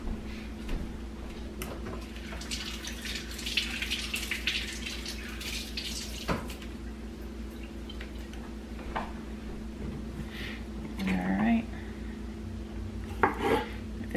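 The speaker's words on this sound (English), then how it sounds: "I'm going to rinse these off." Tomatoes rinsed under a running kitchen tap for a slow cooker beef vegetable soup, a steady close stream of water with clinks of dishes and pans over it and no talking.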